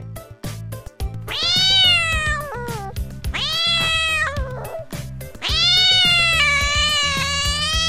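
Cat meowing in three long, drawn-out, tonal cries, close and loud, set over a bouncy children's alphabet song backing with a steady beat.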